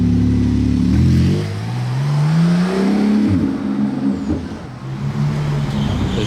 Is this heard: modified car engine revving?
yes